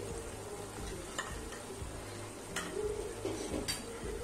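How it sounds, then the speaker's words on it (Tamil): A spoon stirring jaggery into tamarind puliyodharai mixture in a pan, soft scraping and faint sizzling with a few light clinks against the metal, quiet and close. "நல்லா கலரி விட்டுருவோம்"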